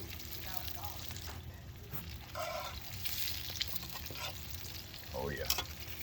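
Squid sizzles steadily on the hot surface of a wood-fired oven, a dense, even crackle that runs throughout, with a voice speaking briefly over it partway through.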